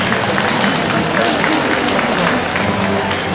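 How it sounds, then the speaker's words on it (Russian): Applause for the bride, Maria, at a traditional Russian Zaonezhye wedding staged at the Russia exhibition: a dense, steady roar of clapping from a crowd, loud throughout, with voices mixed into the wash. "Аплодисменты прелестной хозяйке дома"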